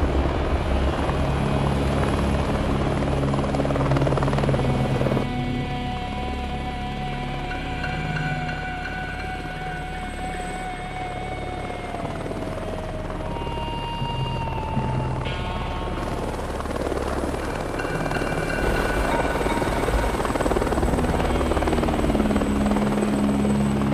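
A helicopter in flight gives a loud, steady rotor and engine drone that fills the whole stretch, with tonal whines rising and shifting over the continuous wash.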